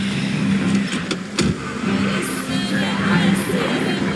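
Video game truck engine running and pulling away, a steady low engine drone with brief revving bursts, loud and close, alone without speech.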